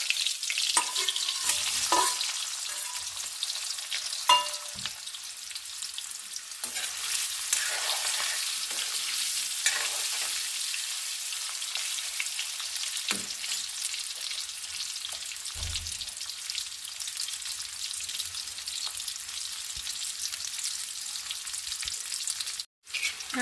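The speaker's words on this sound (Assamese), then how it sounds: "মই এতিয়া এই আলুখিনি ফ্ৰাই কৰি ল'ম" Boiled potatoes coated with salt and turmeric fry in hot oil, giving a long, continuous crackling sizzle with occasional stirring knocks and scrapes. No voices are heard.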